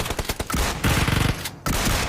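Rapid automatic machine gun fire in the PUBG battle royale video game, an MG3 in a close fight, with dense bursts of shots and a brief pause between loud sustained volleys.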